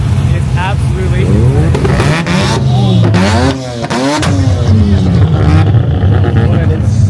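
Supercharged blower engine on a tough street car revving hard at an underground car meet, loud and close with rising and falling sweeps, people talking over it.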